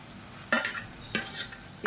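Tomato and grated coconut being sautéed for a chutney, two quick bursts of spatula stirring and scraping over a soft background sizzle, close by.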